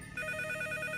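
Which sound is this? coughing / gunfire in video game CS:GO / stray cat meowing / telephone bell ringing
telephone bell ringing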